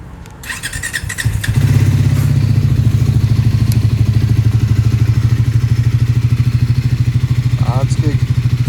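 A motorcycle on a touring ride from Hetauda to Pokhara in Nepal starts with a brief crank and clatter, then settles into a loud, close, steady thumping idle that runs to the end.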